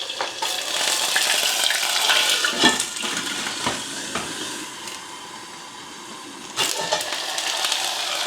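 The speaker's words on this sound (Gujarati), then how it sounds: "હવે ટમેટાં અને લીલા મરચાં, મીઠો લીમડો અને આદું નાખ્યું છે વઘાર કરવા માટે." Tomatoes, green chillies, curry leaves and ginger are added to a hot tempering of cumin and asafoetida for chickpeas, producing a loud, close, continuous sizzle with brief stirring scrapes and surges.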